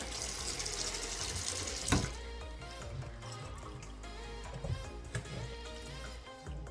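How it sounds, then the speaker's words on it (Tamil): A running tap pours water steadily into a sink, with splashing shifts and a few clunks as paneer is rinsed under the cold stream. "நல்லா சில் தண்ணி விட்டு 2-3 டைம் கழுவி எடுத்துக்கோங்க."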